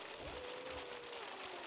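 A hailstorm in the video game The Sims 2 sounds as a steady, soft patter of falling ice on surfaces, faint and continuous with a low background hum.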